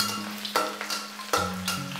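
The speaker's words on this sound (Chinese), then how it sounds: "先放入葱蒜爆香" Scallions and garlic are stir-fried in hot oil in a wok, giving a continuous close sizzle broken by several sharp scraping clanks of a spatula against the metal.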